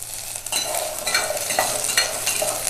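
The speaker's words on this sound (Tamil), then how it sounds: "வெங்காயம் கொஞ்சம் வதங்கட்டும்" Whole and chopped onions sizzle in oil in a pan, a close hiss broken by frequent scraping stirs of a spoon against the pan.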